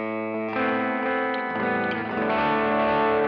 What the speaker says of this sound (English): you can hear the repeat competing with the original note much more than it did on the tape echo